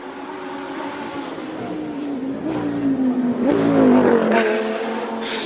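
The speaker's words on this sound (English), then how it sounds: "What can Ricky Giannocaro in the Lamborghini V10 do?" Lamborghini V10 Super Trofeo race car at a hillclimb, its engine note rising and shifting as it accelerates past, moderately close over continuous background noise.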